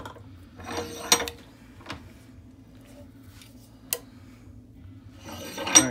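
A valve spring tester clamped in a vise compresses a cylinder head valve spring, giving sparse close metallic clicks, ratchety creaks and a few sharp ticks over a quiet mechanical background.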